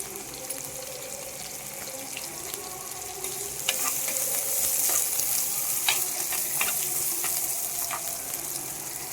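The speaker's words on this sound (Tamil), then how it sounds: "வெங்காயம் வதங்கட்டும் பாருங்க நல்லா வதங்கிடுச்சு" Onions sautéing in a pan after garlic, a steady close hiss of frying with scattered crackles and a few light utensil clicks, slightly louder midway.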